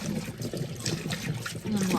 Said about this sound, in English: I'll empty the water out